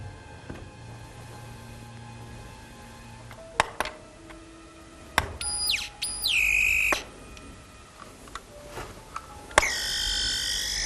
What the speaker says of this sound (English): It's an electromagnetic field detector.